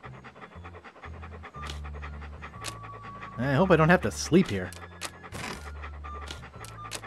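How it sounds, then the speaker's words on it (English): A ferocious-looking dog in the Monkey Island 2 video game pants in quick rhythmic bursts over a looping game soundtrack, while a voice speaks briefly in the middle. "What a ferocious looking dog."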